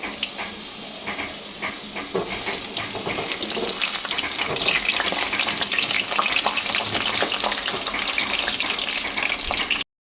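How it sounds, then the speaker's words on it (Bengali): Sliced onions fry in hot oil in a wok, a continuous close hiss and crackle that holds steady and slightly thickens before cutting off abruptly. "আগে বেরেস্তাটা ভেজে নিই"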